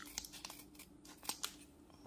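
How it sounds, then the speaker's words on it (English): Scissors snipping open a packet of red cabbage powder from a chemistry kit: a few quiet, crisp cuts and crinkles spread across the moment, faint and close. "And gonna use some scissors to cut that open."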